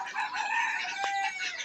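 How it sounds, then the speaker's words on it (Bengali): A local free-range rooster gives a short bright clucking call up close, a single brief burst with no voices. "আর এখানে আছে আমার দেশি মোরগগুলা।"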